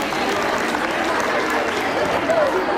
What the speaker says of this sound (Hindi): कृपया एक बार उनका भी जोरदार तालियों से स्वागत करें